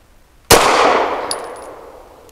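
A single sharp pistol shot from a Ranger Arms RA9 at an outdoor range, loud and close with a long ringing decay.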